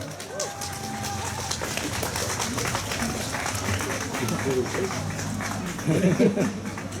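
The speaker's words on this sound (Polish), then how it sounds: "Brawa." An outdoor audience at a children's fairy-tale festival applauds in a steady, moderately loud wash of clapping, with crowd voices and bird calls mixed in and a louder burst near the end.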